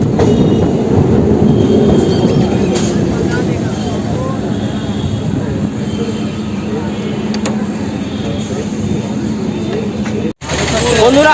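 The 37377 Goghat local train rolls into Rishra station with a loud, close rumble of wagons and faint wheel squeal, the noise easing toward the end while a voice talks over it.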